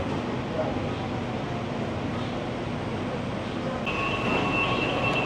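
Train rolling into a station in Bangkok, a steady broadband rumble of wheels and carriage noise with a brief higher whine toward the end as it slows.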